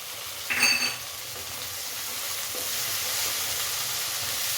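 A small tomato sautéing with onions in a pan for a country chicken curry-leaf pepper fry, heard as a steady close hiss and sizzle after a brief clink of a spoon against the pan.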